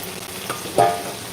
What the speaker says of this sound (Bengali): আলুগুলো দিয়ে দিলাম আবারও কষিয়ে নিচ্ছি